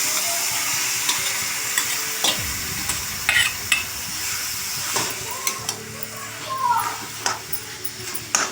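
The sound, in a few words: cooked red pumpkin stirred in ghee in a pan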